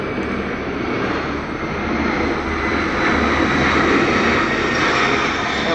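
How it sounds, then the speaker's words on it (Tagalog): An airplane passes low over houses near an airport, producing a loud, continuous engine roar that swells slightly as it goes by. "Yung maingay guys, aeroplano"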